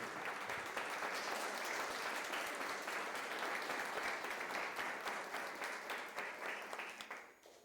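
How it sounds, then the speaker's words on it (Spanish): A church congregation claps for the King after a sermon on repentance, a long, full applause of many hands, fairly even and distant, thinning and fading away at the end. "Dale ese aplauso al Rey."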